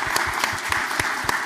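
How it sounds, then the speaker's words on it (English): Audience applause for Gayle King at an ASU Cronkite Award student Q&A event: steady, dense clapping from a crowd filling the room, loud and continuous with sharper individual claps poking through. "So let's give another round of applause for Ms."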